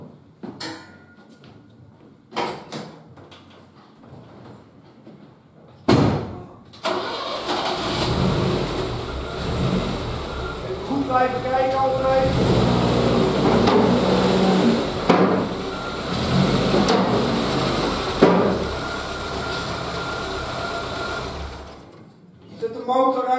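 Car engine idling and revving as the car drives forward onto a four-post car lift, with clunks and knocks from the ramps, a steady mid-pitched engine hum building up, and occasional sharp bangs; some talk in the background.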